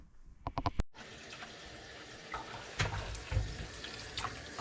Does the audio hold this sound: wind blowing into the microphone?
no